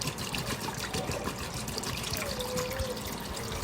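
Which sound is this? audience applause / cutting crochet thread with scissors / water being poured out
water being poured out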